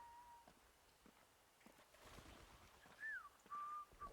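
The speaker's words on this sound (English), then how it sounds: "That whistling sounds awfully close." Tonal whistling in the post-apocalyptic game Atomfall, a rising-and-falling melodic phrase followed by a sustained note, moderately close and loud over a quiet ambient bed with faint steps.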